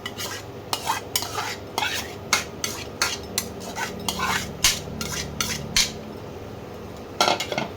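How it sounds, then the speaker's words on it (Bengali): Repeated brisk scraping strokes of a utensil stirring chicken in a dry metal pan with no oil, rhythmic and close, with only a faint sizzle underneath. "এবার এই মাংসটা আস্তে আস্তে কড়াইয়ের মধ্যে দিয়ে দেবো"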